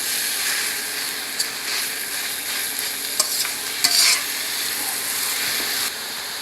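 Ingredients for gising gising sauté in a hot pan until browned, a steady close sizzle and hiss with occasional sharp utensil scrapes and taps against the pan, no voices.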